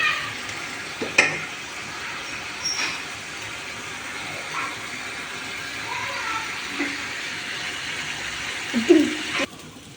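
Chicken pieces being stirred in a pan with turmeric, chili and garam masala, giving soft scraping and faint sizzling, with a few sharper utensil clinks against the pan over a steady low frying hiss.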